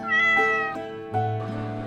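A domestic cat meows twice, close and clear, the first call drawn out and the second lower and rising, with no other sounds around it.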